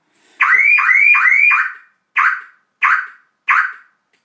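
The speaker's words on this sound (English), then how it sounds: "Don't ask me why the alarm went off." A Volkswagen Beetle's aftermarket car alarm blares nearby: a loud run of rapid rising chirps, then a pause and three separate short electronic blasts at steady intervals.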